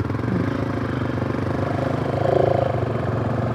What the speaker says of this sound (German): der Motor ist laut, wahrscheinlich hört ihr nichts